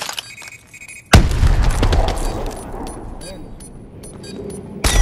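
Burst of loud gunfire and impacts from a Call of Duty match, starting abruptly after a quieter stretch and rumbling on with scattered sharp cracks before another sudden loud hit at the end; no speech over it.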